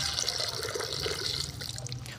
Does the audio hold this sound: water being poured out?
yes